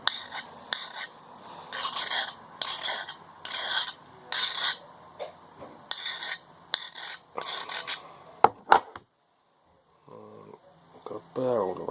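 A Mora carving knife is sharpened by hand, giving a series of close, rhythmic rasping strokes in quick bursts, a short silent pause, then a few softer scrapes.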